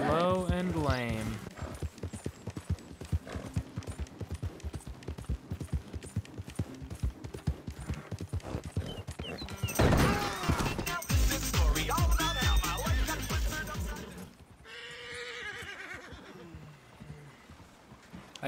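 Rapid rhythmic hoofbeats of a galloping horse in Red Dead Redemption 2 run steadily through the clip, with a brief whinny near the start and a burst of noise midway.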